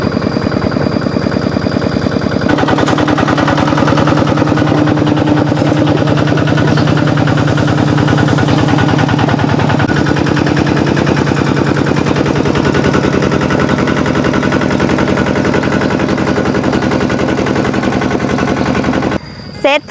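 Walking tractor engine running loud and close outdoors, a continuous rapid single-cylinder chugging that holds steady for about twenty seconds before cutting off.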